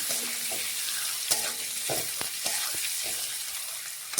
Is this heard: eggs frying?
yes